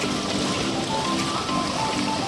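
Heavy unseasonal rain falls at a school, a dense, even wash of broadband hiss that stays steady throughout with no pauses or voices.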